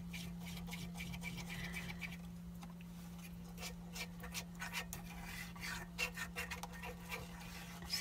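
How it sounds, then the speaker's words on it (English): Fork scraping the bottom of a pan of sausage gravy, quiet rasping strokes in an irregular rhythm over a steady low hum, soft and close with no voices. "You want to scrape the bottom of that pan the whole time"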